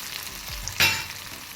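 Garlic and coriander leaves fry in hot oil, bursting into a loud, close sizzle partway through that keeps crackling steadily, with no voices.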